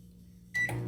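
An oven heating a burger at 250 degrees sits in faint quiet hum, then a sudden electronic beep and whir jump in halfway through, staying steady and fairly close.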